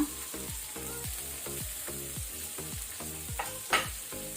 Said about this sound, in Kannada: ಈಗ ನಾವು ಆನಿಯನ್ ಅನ್ನು ಮೀಡಿಯಂ ಫ್ಲೇಮ್ ಅಲ್ಲಿ ಫ್ರೈ ಮಾಡ್ಕೊಳ್ಬೇಕು